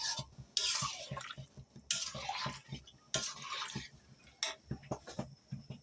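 A spoon scrapes and stirs through a thick chickpea lentil mixture in a large metal wok, with several wet, bursty strokes and soft clinks, close and moderately quiet.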